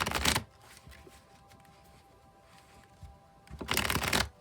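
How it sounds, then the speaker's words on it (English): A tarot deck is shuffled nearby in two short bursts, a riffle at the start and another near the end, with quiet handling between. "I'll shuffle till I feel like the deck is ready, and then I'll cut"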